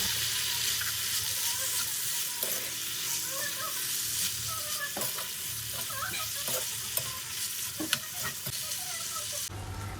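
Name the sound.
marinated chicken frying in hot oil, being mixed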